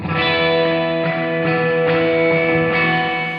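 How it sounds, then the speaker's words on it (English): Electric guitar played through a reverb plugin set fully wet on the track, a few sustained chords ringing out in a steady rhythm with a thick, washed, continuous tail, loud and alone. "this reverb plugin affects the overall sound of the guitar plus the reverb"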